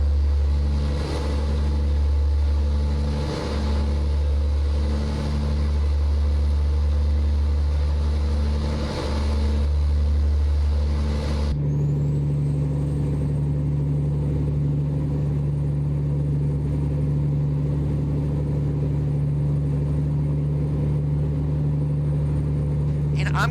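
Exterior engine drone of a truck in American Truck Simulator, a steady low rumbling hum with a pulsing rhythm that shifts to a smoother sustained tone partway through, heard under someone talking.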